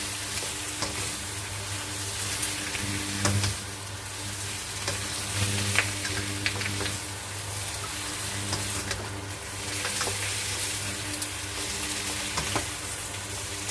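Steady, loud sizzling and crackling of large tiger prawns frying with garlic in a full pan, with occasional stirring scrapes and no talking.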